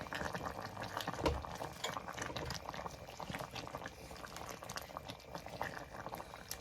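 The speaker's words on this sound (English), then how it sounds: "I'm gonna put in our pak choy, and then gently stir everything." Trini corn soup with pumpkin and pak choy bubbles in a pot while being gently stirred, giving a steady simmering burble with scattered liquid sloshes and spoon clinks throughout.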